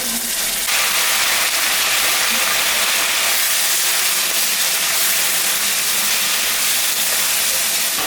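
A paste of ginger, cumin, dried and green chilli hits a hot pan with turmeric, bursting into a loud, continuous sizzling hiss that holds steady throughout.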